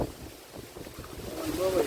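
Strong wind rushes and buffets against the microphone in a rough, continuous roar, with talking mixed in.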